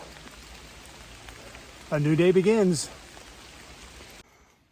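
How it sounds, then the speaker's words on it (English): Steady rain hisses across the whole clip on the Appalachian Trail near Dragon's Tooth, with a short burst of speech partway through. "It is raining again."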